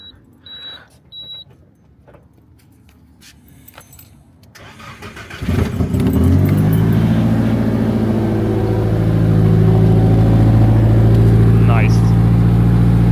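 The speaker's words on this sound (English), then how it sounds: "I'm gonna let the car run for a second" A few quiet clicks and clatter, then a Nissan 180SX engine cranks and catches around the middle, settling into a loud, steady idle that continues to the end.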